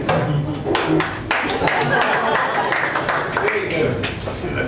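Audience applause, a dense patter of many hands clapping steadily throughout, with voices talking over it.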